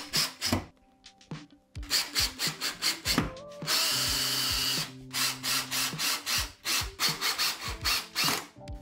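Power screwdriver driving screws to fix a 3D-printed wall mount to a wall: repeated short whirring bursts close by, broken by clicks and handling knocks, with one longer sustained run of the drill in the middle.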